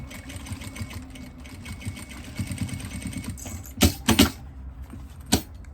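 A sewing machine stitches over an existing seam line on a heart-shaped jewelry box, a fast whirring needle run with faint rattling, then a few sharp clacks and pauses toward the end.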